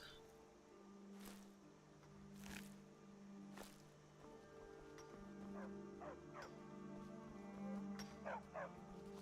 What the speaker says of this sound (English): Stupid dog.